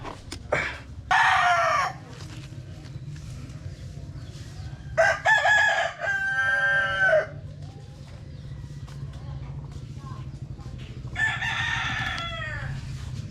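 A backyard chicken lets out several loud, agitated squawks and clucks in separated bursts, close by, over a low steady hum.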